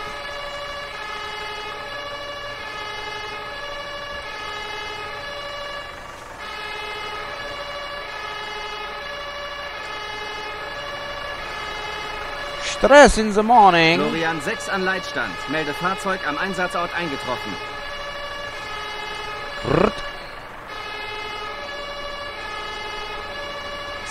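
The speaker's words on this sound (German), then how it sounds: "Wollt ihr Tatütata hören?" A wailing fire engine siren from the Feuerwehr 2014 firefighting simulation game rises and sweeps for a few seconds midway, with one short blast after it. A steady droning game backdrop runs throughout, and someone talks over it.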